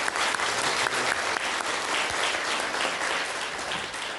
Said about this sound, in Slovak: Potlesk pre vás.